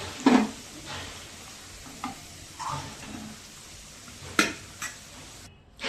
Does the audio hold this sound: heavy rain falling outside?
no